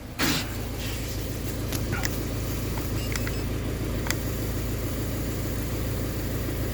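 A car engine idles in the background during a CVT transmission fluid exchange, its exhaust running near a door; a steady, fairly quiet low rumble continues with a few brief clicks and knocks on top.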